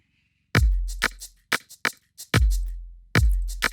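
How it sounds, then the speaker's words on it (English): A punchy Afrobeat electronic percussion loop plays alone on Maschine: deep kicks, sharp claps and clicky hits in a simple, syncopated groove. "Let's play the percussion first."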